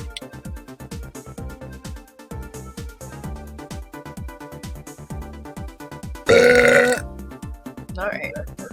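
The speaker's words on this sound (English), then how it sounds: "More burps." Loud, drawn-out burping bursts out over game music from Phoenix Wright: Ace Attorney, one long belch followed by a shorter one, close and prominent.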